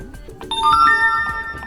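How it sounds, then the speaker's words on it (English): A Cat S53 phone repeatedly sounds its notification chime over failed Google Play services connections, several bright electronic tones in quick succession, close and clear over faint background. "it's now spamming this notification sound that it cannot connect to Play services"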